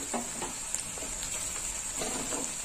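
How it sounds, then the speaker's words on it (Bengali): Turmeric powder fries in oil with green chili paste for a soybean curry, making a faint, soft sizzle with a few light stirring scrapes. "হলুদটা একটু তেলের সাথে ভাজা হবে।"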